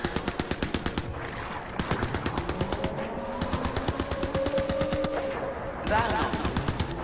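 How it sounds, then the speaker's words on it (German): Rapid mounted turret gunfire in the Crysis 3 video game on PC, firing in steady fast bursts across several seconds, loud and close, with a brief pause and then a renewed burst near the end. "Okay, wir haben hier ein Geschütz."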